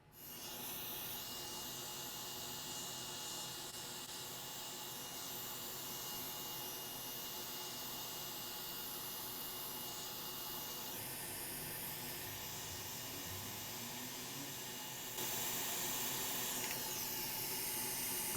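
A hot air rework station blowing on an Asus ROG Strix 3080 OC graphics card board, a steady faint airflow hiss and whine that holds throughout and shifts tone slightly, no talking.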